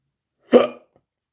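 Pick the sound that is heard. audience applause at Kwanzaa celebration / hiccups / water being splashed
hiccups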